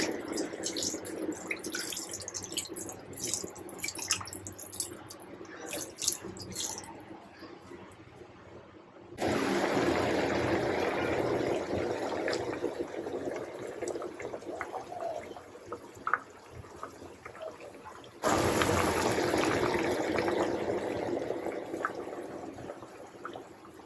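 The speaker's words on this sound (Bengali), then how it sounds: "তো এবার দিয়ে দিচ্ছি জল।" Water poured into a pot of red lentils (masoor dal) on a home stove, a steady, moderately loud splashing rush that runs through most of the stretch with no talk.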